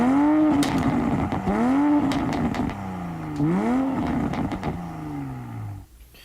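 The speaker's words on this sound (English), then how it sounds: "the idling sound is my absolute favorite. So we're going to go ahead and play a snippet of that." A 2015 Scion tC engine rises in pitch through several repeated surges, each revving up then dropping back, loud and close with a buzzy exhaust tone, fading lower toward the end.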